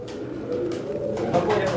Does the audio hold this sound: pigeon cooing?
yes